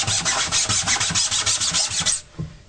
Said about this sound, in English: I just rub a lot of it. Rub it.